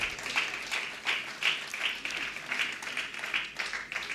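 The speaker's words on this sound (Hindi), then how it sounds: "जो जोरदार तालियां।" Audience applause at a theatre award ceremony, a steady wash of many hands clapping at moderate distance, fairly soft and continuous with no voices over it.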